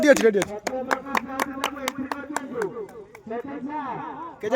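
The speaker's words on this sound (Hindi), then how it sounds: "ए ताली दो" At a school annual sports day, a group of people claps in a quick, fairly regular run of sharp hand claps, close by and mixed with overlapping voices talking and calling out.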